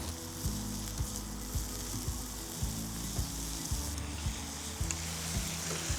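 Sirloin steak searing in a hot pan, a steady loud sizzle and spatter with faint rhythmic scraping and knocks underneath, continuous and close.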